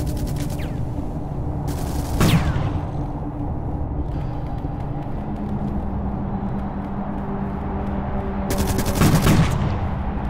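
Gunfire in The Red Solstice video game: bursts of automatic shots crackle over a constant low rumble of combat, loud and close, with the shooting returning after a lull and no talking.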